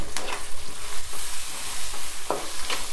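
Curry leaves, onions, green chillies and dried red chillies fry in a pan for an upma, a steady crackling sizzle broken by occasional scraping stirs and sharper pops, close and fairly loud with no voices.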